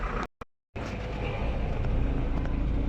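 Vehicles starting and moving in stalled traffic on a road in Azad Kashmir, heard as a steady, close, broadband engine and road rumble that follows a brief dropout near the start, with no voices.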